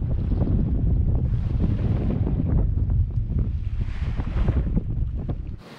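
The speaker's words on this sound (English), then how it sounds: "Might be a bit too breezy for the spinnaker today" Strong breeze buffets the microphone aboard a round-the-world sailing yacht in Southeast Asia, a loud rumbling gusty roar with water sloshing beneath, steady for several seconds before cutting off.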